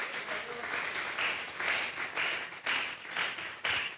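A church congregation claps in uneven, pulsing bursts, the applause rising and falling in waves with a few heavier thumps, moderately near and without talk over it.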